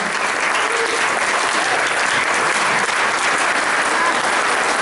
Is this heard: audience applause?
yes